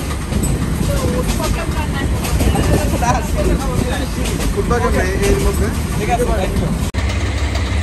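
A Haor Express passenger train rumbles steadily along near Gafargaon, Bangladesh, with continuous rail and engine noise, while people talk nearby over the running din.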